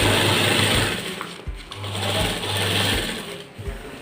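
Sewing machine stitching a shirt with two-thread stitching, a loud close mechanical whir that runs in bursts, pausing briefly between runs of stitching.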